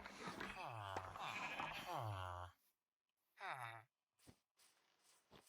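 Two sheep in a Minecraft village wool shop pen bleat in long wavering cries, several in a row over the first half, then another after a pause, loud and close, followed by a few short thuds and soft game noise.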